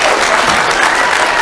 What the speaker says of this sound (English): Please, no clapping, no clapping.